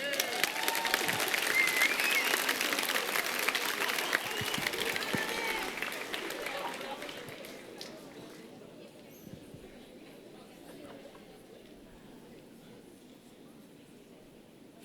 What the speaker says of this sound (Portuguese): Eu não ouvi os aplausos.